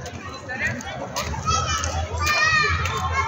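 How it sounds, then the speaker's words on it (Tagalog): Children playing and shouting outdoors near a shelter during air-raid sirens in Israel, lively overlapping young voices rising and falling throughout with steady low background hum. "Mga tao, mga bata naglalaro."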